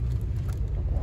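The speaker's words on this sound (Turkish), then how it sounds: "Hadi arkanda arabaları geçiyor." Cars pass by on a street in earthquake-hit Elbistan, making a close, steady low rumble of engines and tires for about a second.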